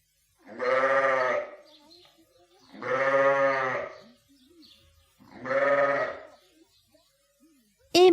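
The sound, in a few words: sheep bleating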